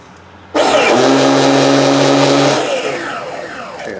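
A Picco JL .28 nitro engine with upgraded ceramic bearings, fitted in a Mugen truggy, fires up abruptly into a loud, close, high buzzing whine that holds steady, then drops and fades over the last second.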